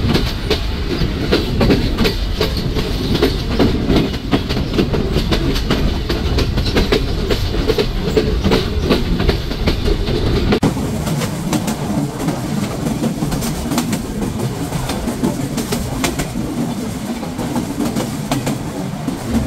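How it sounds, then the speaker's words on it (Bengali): Chitra Express train pulls out of Khulna railway station, its wheels clattering in a steady, loud clickety-clack rhythm from onboard, the rumble continuing without pause. "9:03 ট্রেনটি ছেড়ে যাচ্ছে খুলনা রেলওয়ে স্টেশন"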